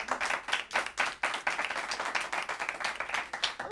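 Audience clapping for a young stand-up comedian at a comedy show, dense rapid applause sustained throughout with small swells and dips, close and steady.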